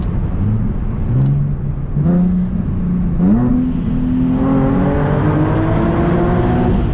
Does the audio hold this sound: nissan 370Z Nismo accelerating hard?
yes